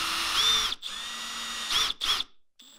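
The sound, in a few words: drilling shallow holes with Forstner bit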